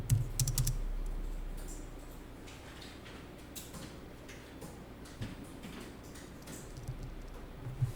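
Computer keyboard typing during a Korean accounting practice class, with scattered soft key taps and a few quick bursts over a steady low room hum, close and fairly quiet.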